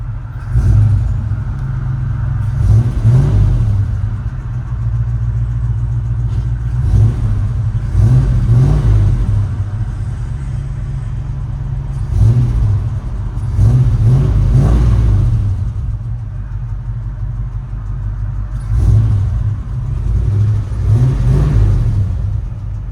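1971 Ford F100 Ranger with a 360 V8, headers and Flowmaster Flow FX exhaust, heard from inside the cab: deep rumbling idle punctuated by about six blips of the throttle at steady intervals, loud and close.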